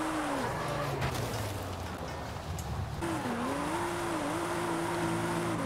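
A Nissan 350Z drifting at full throttle in Forza Horizon 5, with a sustained engine drone that rises and wavers while the tyres squeal under the slide, continuous and steady throughout.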